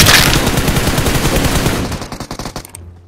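Gunfire from the PUBG Mobile video game: a sustained burst of rapid automatic shots, loud and close, breaking into separate cracking rounds before stopping.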